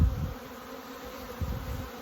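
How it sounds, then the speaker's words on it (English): Honeybees fly around backyard hives beside a nucleus colony in a steady close buzzing drone, with individual bees swelling louder as they pass near. "A lot of bees flying here."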